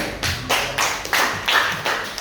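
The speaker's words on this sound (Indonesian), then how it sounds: "ya terima kasih tepuk tangan" A classroom of students clapping for a classmate during a fishbowl discussion, heard as four or five short bursts of applause in a row, fairly close and moderately loud with no talk over it.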